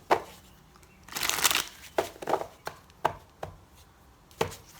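Tarot cards being shuffled by hand: a dense riffling burst in the middle, then a series of short separate card slaps and flicks, close and fairly quiet with no talking.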